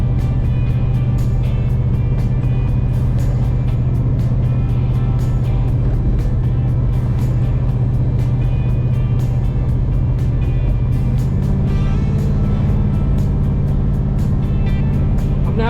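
A 1979 El Camino cruising steadily in third gear, its engine a loud, continuous low drone with road rumble close inside the cab, the pitch shifting slightly near the end.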